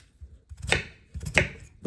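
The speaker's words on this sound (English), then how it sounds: "We're just gonna cut them up" A knife chops through peeled potatoes on a cutting board, cutting them in half and then into chunks, with two distinct close thuds of the blade meeting the board amid quieter handling sounds.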